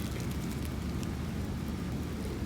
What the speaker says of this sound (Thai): ฝนตกหนักแล้ว จะเดินกลับได้ไหมเนี่ย